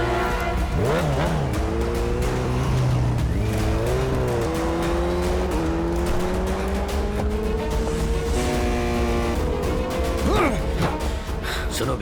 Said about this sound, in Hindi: यमाहा R1 बाइक हेलमेट के साथ क्रॉस कर रहा है